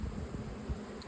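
Honey bees from a Georgia package buzz in a low, steady drone, with no voices.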